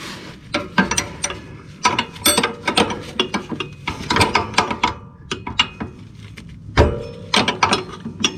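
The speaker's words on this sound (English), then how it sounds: "All I'm doing is I'm just taking my ratchet, kind of working it in there." Ratchet used to work a mowing belt onto the pulleys of a Dixie Chopper Silver Eagle mower, giving irregular close metallic clicks, clanks and knocks in bursts with short pauses.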